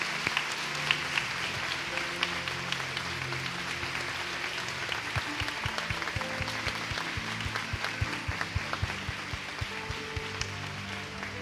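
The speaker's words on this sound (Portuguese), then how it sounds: "Uma salva de palmas pela vida desses irmãos." A congregation applauds inside a church, a dense, steady patter of many hands clapping throughout, fairly even in loudness with no talking over it.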